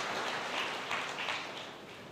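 Congregation applause at a church sermon, a dense, even wash of clapping from a large crowd at moderate loudness that fades slightly toward the end.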